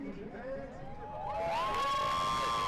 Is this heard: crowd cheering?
yes